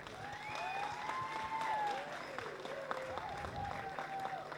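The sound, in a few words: audience applause at a theatre event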